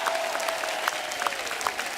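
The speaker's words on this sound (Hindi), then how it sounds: "इनके लिए जोरदार तालियां" A studio audience on The Kapil Sharma Show claps for an actress, a fairly soft, steady patter of applause with a few sharper claps standing out. A faint tone runs underneath.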